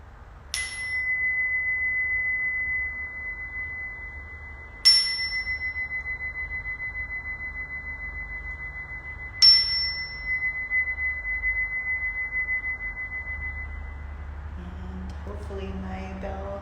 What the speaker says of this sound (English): Hopefully my bell came across on the technology.